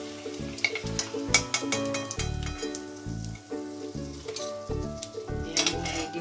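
Nimki fries in hot oil with a continuous crackling sizzle close up, while tonal music plays over it throughout.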